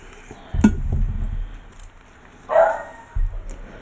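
A pet puppy barks indoors in a couple of short bursts, moderately near, with quiet clinks and no talking.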